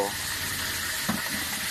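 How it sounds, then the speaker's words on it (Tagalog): Miso dish ingredients fry in a hot pan with a steady, close sizzle, plus a brief stirring clatter partway through. "Yan ang sahog sa miso, piniprito muna."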